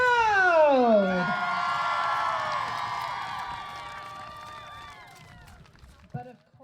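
Crowd at a medieval faire joust cheering and whooping, loud at first with rising and falling voices, then fading to a lighter, more distant murmur of cheers before a voice cuts in at the end.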